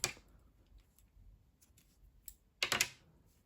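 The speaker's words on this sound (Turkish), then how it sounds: "ipliği kesiyorum" Scissors snip through crochet yarn in a quiet room, a faint click at the start and a short, crisp cluster of snips near the end, with no talking.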